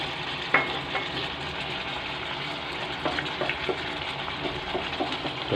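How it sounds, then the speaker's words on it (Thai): Chicken curry stir-fried in a pan after a little water is added: a continuous bubbling sizzle with occasional scrapes and taps of a spatula, close and moderately loud. "พอผัดสักพักนึงเราก็เติมน้ำเข้าไปนิดหน่อยนะครับ"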